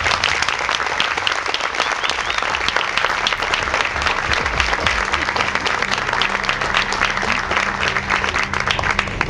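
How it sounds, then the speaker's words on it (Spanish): A crowd at a baseball park breaks into loud, continuous applause, a dense wash of clapping that stays close and even from start to finish, with faint background voices beneath. "Un aplauso para ellos, por favor."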